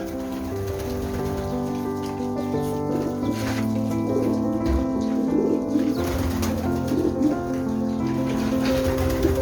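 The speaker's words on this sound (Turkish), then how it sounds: "Bunlar da yarışçı olarak beslediğimiz postalarımız." Racing pigeons kept in a loft in Uzunköprü, Edirne coo in soft, overlapping calls, with light pattering and scattered flutter-like noises close by and no talk.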